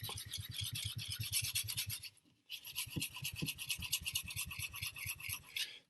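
A chef knife scrapes back and forth across a whetstone in steady, rapid rasping strokes, close and fairly loud, with a brief pause midway before the rhythmic grinding resumes.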